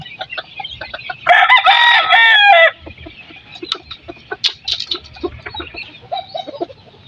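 A farmyard hen clucks in short scattered bursts, with one loud, drawn-out cackling call near the middle standing well above the quieter clucks around it.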